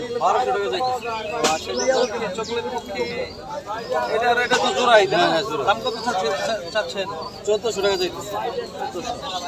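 Pigeons, a rare breed among them, kept in cages at a rural market in Bangladesh, their chirps and soft coos heard throughout among steady nearby talk and crowd chatter.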